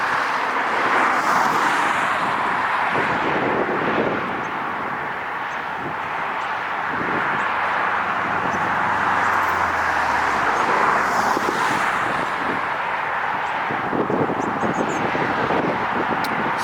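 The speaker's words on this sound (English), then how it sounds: "getting ready to pull into position for takeoff is Delta Airlines 737-8 going to San Francisco, flight 1559" A Delta Air Lines Boeing 737-8 jet taxis into position for takeoff at an airport, its steady engine roar and rushing broadband noise sustained throughout with some wind buffeting on the microphone.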